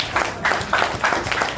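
An audience at an All India LIAFI meeting applauds, a dense crowd of hands clapping steadily in a hall for a brief moment, with no voices over it.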